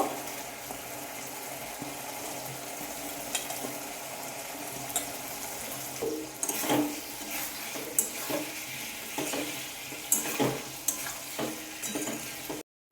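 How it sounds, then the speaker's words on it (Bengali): Boiled potato being stir-fried with spices in a pan gives a soft, low sizzle with intermittent scraping and clinking of a utensil against the pan, fairly faint and close, without talk. "আলু সিদ্ধ করে রাখা আলুটা মশলার সাথে কষিয়ে নেব"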